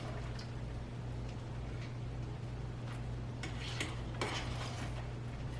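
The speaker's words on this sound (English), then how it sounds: "let's give that a gentle stir" Corn on the cob stirred gently in a pot with milk, faint clinks and scrapes of a utensil against the pot over a low steady hum.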